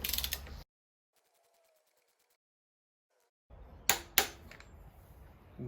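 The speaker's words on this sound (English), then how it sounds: "So I've got my torque wrench out." A torque wrench tightens oil filter housing bolts to 25 newton meters on a BMW 323i E36. After a stretch of near silence come two crisp, close mechanical clicks in quick succession, then faint handling noise.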